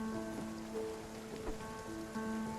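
Steady rain pattering on surfaces during a storm in the game Spiritfarer, a constant soft wash with faint drips and sustained musical tones running through it, quiet throughout.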